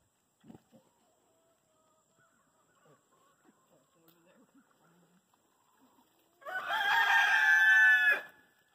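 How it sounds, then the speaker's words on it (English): A rooster crows once, a loud, close cock-a-doodle-doo lasting about two seconds near the end, after a stretch of faint clucking and small barnyard sounds. "so we got a crow"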